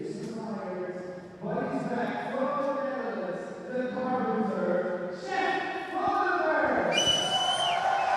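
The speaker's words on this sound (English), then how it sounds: "He's getting a lot of cheers here from the home crowd." Home crowd cheering and shouting for a local archer during the final of an archery open, a sustained swell of many voices rising in waves and growing louder toward the end.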